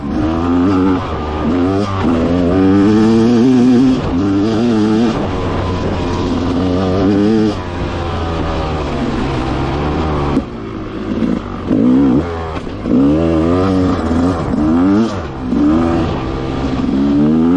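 An enduro motorcycle engine revs and surges repeatedly, climbing and falling in pitch as the rider works the throttle, loud and close throughout with a short break midway.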